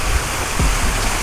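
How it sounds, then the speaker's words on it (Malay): Steady broadband rush of a small mini waterfall beside a koi pond in a park garden, continuous and close with no talking. "Patutlah daripada tadi aku dengar bunyi air terjun."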